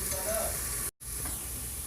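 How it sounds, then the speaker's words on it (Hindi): Onions frying in a pan give a loud, steady, close sizzle, broken by one brief silent gap before the hiss resumes. "प्याज जो है तलने वाली हो गई है।"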